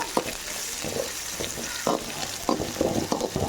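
A handful of sliced large onion fries in a pan with a steady close sizzle, broken by repeated scraping strokes as it is stirred. No one speaks.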